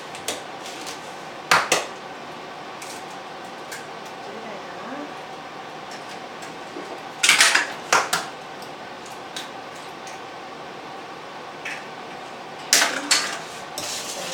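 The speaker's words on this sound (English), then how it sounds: "Mix that." A spoon clatters against a mixing bowl while vanilla and other batter ingredients are stirred, giving sharp scattered clinks at irregular intervals over a quiet room hum.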